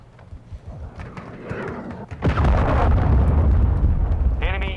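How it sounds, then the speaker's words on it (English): A Call of Duty Modern Warfare 2 cruise missile explosion, a loud sudden blast that rolls into a sustained rumble after quieter battlefield noise, with a brief high electronic tone at the end. "Hostile cruise missile incoming."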